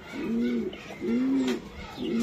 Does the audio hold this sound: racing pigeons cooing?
yes